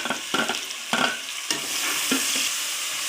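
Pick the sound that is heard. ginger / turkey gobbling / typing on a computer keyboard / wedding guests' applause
ginger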